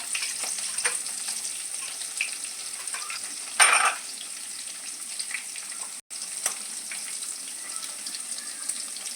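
Diced onions frying in a pan for a prawn dish, giving a continuous fine sizzle with faint stirring taps and one brief louder burst of hissing partway through.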